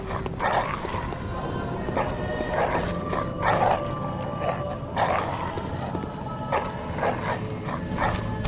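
Beast dogs in the Bloodborne video game bark and snarl in a run of sharp, repeated bursts, loud and close, over a steady rumbling game soundscape with no talking.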